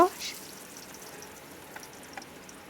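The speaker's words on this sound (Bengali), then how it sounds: "আমি এখন শাক ভেজে নেব।" Leafy data shak greens frying in a pan give a soft, steady sizzle at low level, broken by a few faint crackles and light stirring touches.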